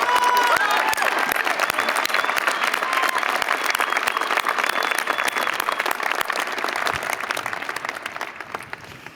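A big crowd at a UC Berkeley commencement gives sustained applause, dense clapping that stays loud and slowly tapers off near the end.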